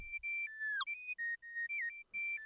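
Bright electronic synth tones from a Serum synthesizer hold a tense, clashing semitone interval, with notes stepping and bending between short held chords, quiet and alone.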